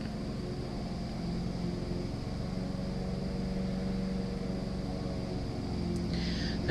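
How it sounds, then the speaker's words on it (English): A lawnmower drones steadily in the background, a constant muffled engine hum with a broad hiss that holds at even loudness throughout, with no speech. "The noise you hear in the background today is the lawnmower."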